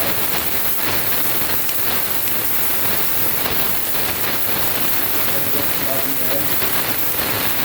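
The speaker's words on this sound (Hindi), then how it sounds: "मैं गैस डाल दूँ तो गैस की आवाज़ आएगी" A steady, close gas stove burner hiss runs unbroken throughout, with faint crackling flecks on top from oil heating in a pan, and no voices.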